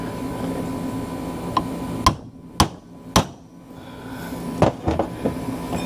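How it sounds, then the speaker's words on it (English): Three sharp hammer blows on a wheel speed sensor on a Kia Soul ring out a second apart, followed by a few lighter taps, against a low background hum. "we're just going to smack this thing with a hammer"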